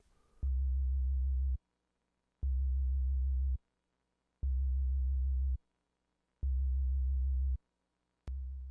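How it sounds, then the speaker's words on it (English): A low, pure analog synthesizer sine wave, triggered by a DAW while building an 808, sounds in five even, evenly spaced pulses, each about a second long, with silence between, then a sixth begins. "now you can hear the sine wave being triggered by the DAW"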